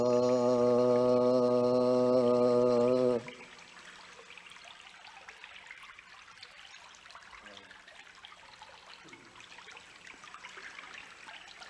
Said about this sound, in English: Tamura is a sound of this creek.